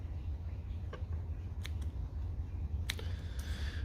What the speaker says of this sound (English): Cut off any remaining line, just like that.